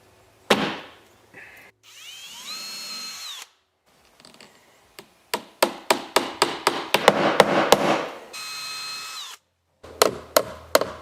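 A power drill whirs in repeated short bursts, driving screws into wood without pre-drilling, with quick rattling pulses and brief pauses between runs, close and loud.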